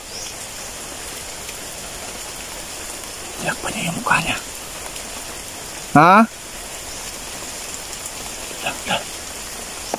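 Steady heavy rain hisses throughout, with people speaking briefly over it and a short electronic chirp partway through.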